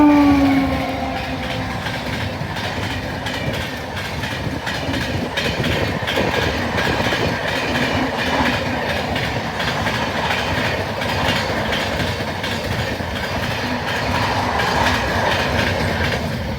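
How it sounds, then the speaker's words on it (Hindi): The Bandra Barauni Awadh Express passenger train rolls past close by on the track, a loud sustained rumble with steady clickety-clack from the wheels and a brief horn-like tone at the start. "साल के 365 दिन पैक चलने वाली बांद्रा बरौनी अवध एक्सप्रेस"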